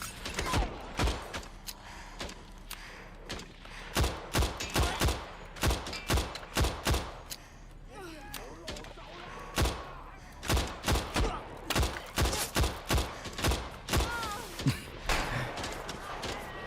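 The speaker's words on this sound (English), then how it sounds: "I kept shooting civilians." Gunfire in the Better Than Dead video game: sharp, loud shots cracking out in irregular bursts and single hits throughout, some in rapid clusters, with faint background game ambience between them.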